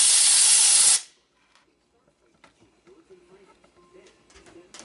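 A hard burst of compressed air blasts dirt out of a Stihl 066 MS 660 chainsaw for about one second, a loud hiss that cuts off abruptly, followed by faint clicks and handling noises.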